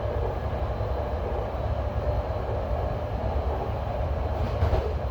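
A loud, steady low rumble of a passing Union Pacific freight train, continuous throughout with a faint rhythmic rattle of cars rolling by.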